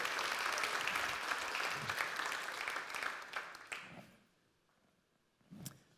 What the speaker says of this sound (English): I think we should all give each other a round of applause